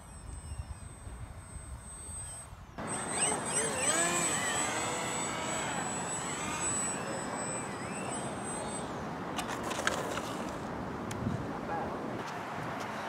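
A homemade twin-boom RC airplane's electric motor whines in a high steady tone as it comes in to land, rising over wind noise and then cutting out.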